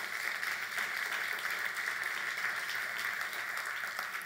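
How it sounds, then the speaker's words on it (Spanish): A church congregation applauds steadily, a dense, even wash of clapping at moderate distance that holds without a break from start to finish. "denle un aplauso al Señor"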